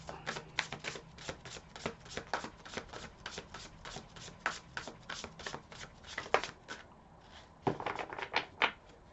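A deck of tarot cards shuffled by hand, a rapid series of crisp riffling snaps and soft slaps, close and fairly quiet, with brief pauses between bursts.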